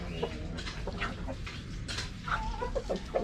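A young rooster clucking up close, a series of short, irregular clucks and chirps over faint farmyard background noise.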